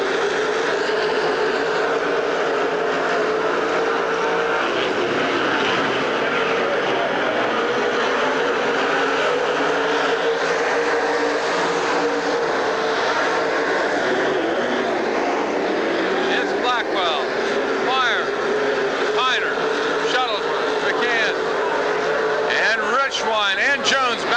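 Race cars roar around Silver Spring Speedway in a continuous dense engine drone that swells as they pass, with an announcer calling the race over the top throughout.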